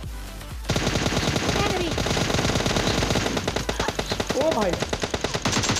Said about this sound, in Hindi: मेरा गन जो है M4 रीलोडिंग पे चला गया था, बट मैंने AKM निकाल के तुरंत उसको मार दिया